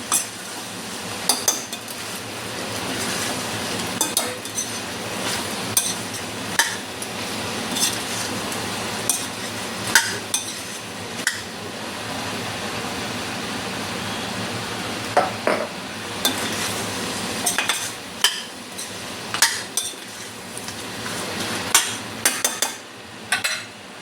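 Chili powder being stirred into a pan of cooked-down tomatoes, a spoon scraping and clinking against the metal in a steady rhythm over a soft sizzle, close and continuous.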